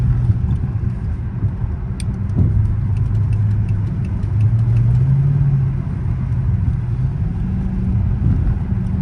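A Dodge Charger R/T engine drones steadily as the car cuts through traffic, a loud continuous low rumble with the pitch rising and falling as it accelerates and shifts, plus faint ticks from inside the cabin.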